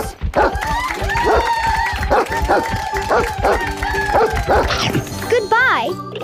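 Cartoon dogs bark and yip in a quick repeated series, loud and close, over busy background music with a whimpering yelp near the end.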